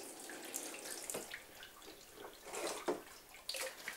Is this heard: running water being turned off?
yes